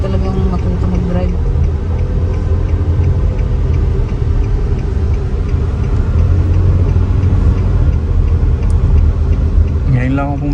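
A car accelerating under a learner driver, steady engine and road rumble filling the cabin with a slight rising tone, while people talk over it throughout.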